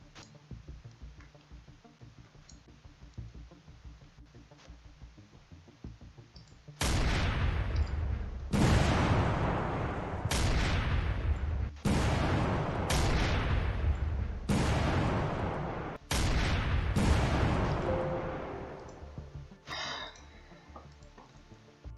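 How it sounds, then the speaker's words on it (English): Artillery fire in the Command: Chains of War video game, a series of about six heavy booming shots fired at irregular intervals over a quiet background, each loud and abrupt with a short decay. "Let's attack this radar with our artillery"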